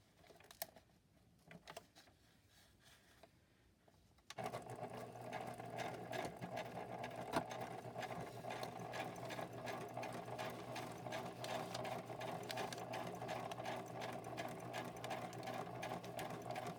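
A sewing machine stitching embroidery onto a card tag tab starts up after a few quiet seconds with soft handling noises, then runs in a steady, fast, close mechanical whir to the end.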